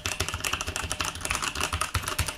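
Rapid typing on a Sahara R20 TKL mechanical keyboard with Outemu switches, a dense run of close, crisp key clacks with no talking.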